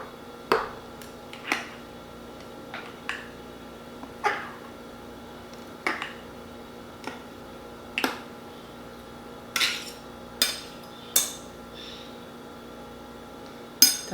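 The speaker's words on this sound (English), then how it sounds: "So now I'm just going to take a knife and just kind of stir all that up." A knife stirring overnight oats with chia seeds in a container for birthday-cake-flavoured oats, a series of sharp clinks and taps against the jar at a loose rhythm, close and alone.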